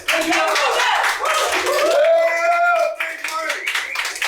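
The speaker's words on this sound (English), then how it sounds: "Applause to Ruebel" Applause for a bidder at a fundraiser auction in a drawing studio, a steady run of clapping from a small audience heard under loud, continuous talking and exclaiming voices.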